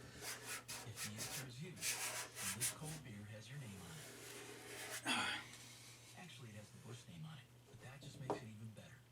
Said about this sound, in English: Kind of hard to use the squeegee on your bend here